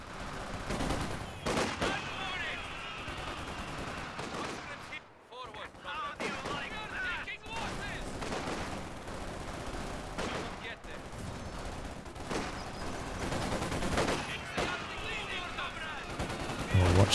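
Soviet units in a strategy video game open fire, with dense volleys of gunshots, rattling machine-gun bursts and heavier booms crowding together almost continuously over about seventeen seconds.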